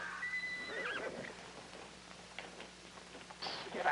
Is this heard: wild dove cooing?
no